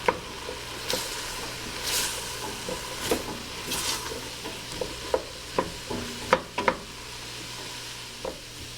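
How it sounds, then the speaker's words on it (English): Flour cooking in a pan for an Irish shepherd's pie (cottage pie), with a soft continuous sizzle under scattered scraping stirs and spoon taps against the pan, fairly close. "we're going to cook down our flour"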